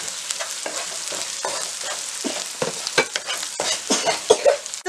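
Ginger garlic paste frying with garam masala, coriander powder, chili powder and turmeric for Indian chicken curry, a steady broadband sizzle broken by repeated scraping stir strokes, close and fairly loud with no talking.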